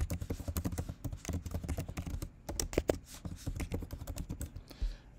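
Rapid, steady typing on a computer keyboard while entering sign-up details, the close keystrokes clicking in quick irregular bursts with no talk.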